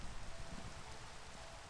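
Steady rain falls in the Minecraft modpack Age of Engineering, a dense, even hiss of drops that fills the whole moment without letup or other sounds.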